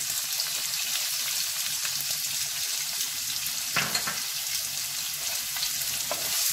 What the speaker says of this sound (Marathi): त्यावर हा बारीक चिरलेला कांदा टाकून घेऊ